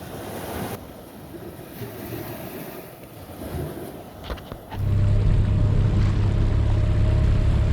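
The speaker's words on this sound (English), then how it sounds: "Hanging out on the beach." Waves wash onto a beach at Rancho Santa Ana with a steady, broad rush, partly buffeted by wind on the microphone, and the surf grows louder and fuller midway through.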